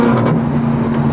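A Ferrari 430 Scuderia with a single-clutch gearbox drives along, its engine a loud, steady roar filling the cabin throughout the short stretch.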